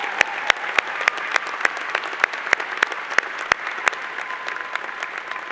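Commencement audience applauding at a College of Liberal Arts & Sciences ceremony, a steady wash of many hands with sharp individual claps standing out, sustained and fairly loud throughout.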